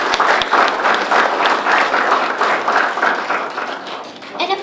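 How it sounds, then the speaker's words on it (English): An audience at an ice-breaking concert gives a big round of applause, loud, dense, continuous clapping filling the room before tapering slightly at the end. "Ladies and gentlemen, a big round of applause for both of them"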